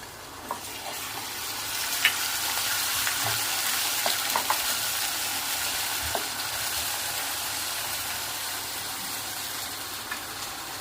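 Ginger garlic paste frying in a pan for Maharashtrian misal, a steady close sizzle with occasional pops and stirring scrapes throughout.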